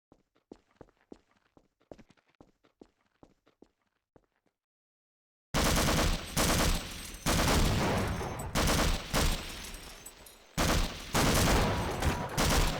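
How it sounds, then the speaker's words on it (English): Gunfire in the original Xbox port of the video game Half-Life 2, a quiet run of sharp shots followed by loud, dense bursts of close gunfire. "Stop shooting me."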